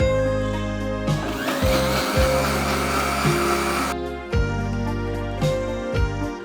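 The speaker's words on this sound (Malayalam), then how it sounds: "രണ്ടാമതും കൂടെ മെഷീനിൽ അടിക്കാം രണ്ട് കപ്പ് വെള്ളം ഒഴിച്ച് അടിച്ചു നോക്കാം" Ragi is ground a second time in a mixer grinder with two cups of water. A loud motor roar surges for a few seconds, then settles into a lower hum with short bumps and pauses.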